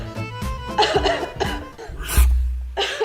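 A person eating at a meal coughs repeatedly in short, uneven bursts, close and moderately loud, with a low thump partway through.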